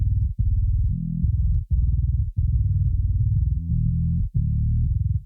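Sub track of a GenBass 2 bass guitar DI, a deep, rounded low-end riff with no upper fizz, chugging in phrases broken by short gaps, loud and alone.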